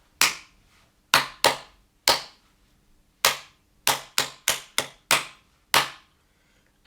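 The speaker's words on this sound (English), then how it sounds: "So then I would clap it first." Close, loud hand claps, around eleven of them, tap out a syncopated rhythm with several fast pairs and a run of quick claps near the end, heard alone, as a grade 2 listening-test rhythm.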